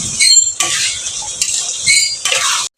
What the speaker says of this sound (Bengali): এবার আমি আলুর সাথে চিকেনটাকে মিশিয়ে নেব।